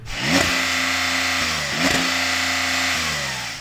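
A Porsche 911 Turbo S flat-six revs loud and close, with two sharp throttle blips that climb and then settle into a sustained high-rpm drone. No one talks over it.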